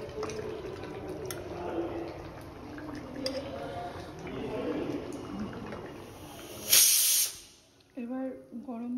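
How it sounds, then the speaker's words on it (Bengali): Mutton kosha cooking in a hot pan with boiled potatoes added: a steady sizzling hiss runs throughout under a speaking voice, with a louder burst of spray partway through before it fades. "এবার গরম মশলা আর জায়ফল গুঁড়ো এর মধ্যে মিশিয়ে মটন কষা রেডি"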